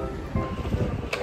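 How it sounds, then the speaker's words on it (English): Low, rumbling gusts of wind buffet the microphone at a school in Jakarta in a brief, continuous blustery wash. "It's so windy."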